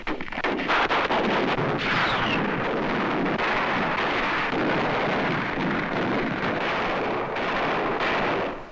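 Heavy World War II gunfire and artillery from the Marines' push up Mount Suribachi on Iwo Jima roar in a dense, continuous barrage of booms and cracks, loud and close throughout.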